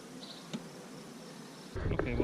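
Honeybees buzz faintly around an opened hive during a June inspection, a soft continuous drone with light knocks of frames, then a louder rustling handling noise near the end.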